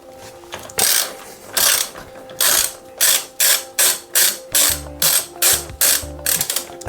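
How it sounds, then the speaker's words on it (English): A ratchet tightens the small screw of a crank puller on a bicycle's square-taper crank: about a dozen loud, rhythmic clicking bursts, evenly spaced and quickening toward the end, with no talking. "now let's just screw the small screw in"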